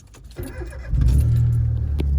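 A car engine starting, played by the RevHeadz phone app: a brief crank and mechanical rattle, then the engine catches into a loud, steady low idle that holds to the end.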